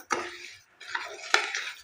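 Washed rice being stirred and fried in a spoonful of ghee in a pan for Assamese rice barfi, heard as two bursts of scraping, clinking spoon-on-pan stirring separated by a short pause, close and moderately loud.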